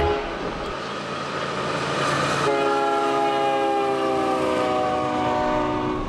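Freight train passing close by, led by a Hapag-Lloyd liveried locomotive, with a loud steady rumble and a long sustained horn blast over the rolling of the cars.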